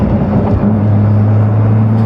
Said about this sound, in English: there's a lot of turbo noise on the outside of this thing